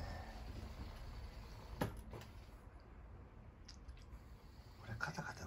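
An iRobot Braava robot mop on a dry run clatters as it moves, with scattered light clicks and knocks over a steady low background hum.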